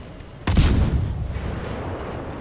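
Warship guns fire armour-piercing rounds in World of Warships, a single loud, sharp boom that decays into a rumbling tail over two seconds, heard alone and close.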